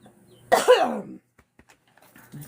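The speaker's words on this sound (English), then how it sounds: "I got a cough again." A single harsh cough close up, followed by near silence and faint movement.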